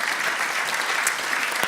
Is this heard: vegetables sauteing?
no